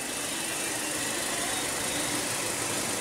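A 2015 Hyundai Elantra's 1.8-liter four-cylinder engine idles with a smooth, even hum, steady and moderately loud throughout with no other sounds.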